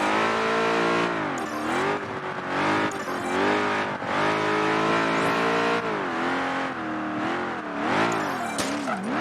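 Racing car in Project Gotham Racing 3 driven through an open city: continuous loud engine revving that rises and falls with gear shifts, with bursts of tire squeal, no talking.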